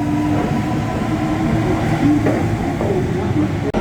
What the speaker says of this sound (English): So really nice, clean trains.